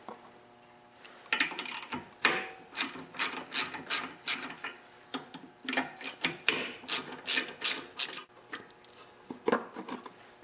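A ratchet with an extension and 3/8 socket loosens the carburetor bolts on a Briggs & Stratton Quantum lawnmower engine, making close, rhythmic bursts of rasping clicks in repeated strokes.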